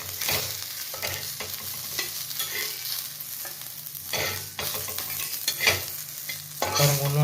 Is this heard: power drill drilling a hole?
no